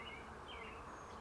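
Honey bees buzz on a frame of a three-week-old hive with larvae and pollen, a faint, close, continuous drone with a few wavering higher tones as individual bees pass.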